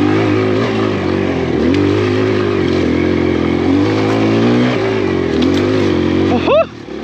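A lightweight full-size-wheel four-stroke dirt bike runs along a trail, its engine droning loud and close with rising and falling revs, ending in a quick throttle blip and drop.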